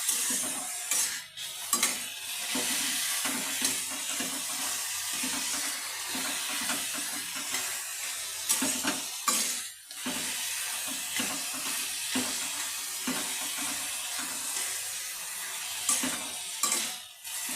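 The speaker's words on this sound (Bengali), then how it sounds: "আপনারাও বাড়িতে সজনে শাক এইভাবে ভেজে নেবেন।" Drumstick leaves (sajne shak) frying in a pan, a continuous sizzle broken by repeated scraping stirs with a utensil throughout.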